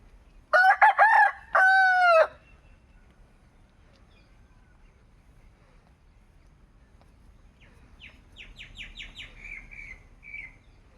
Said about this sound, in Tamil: பிடிச்சிடலாமா சேவலை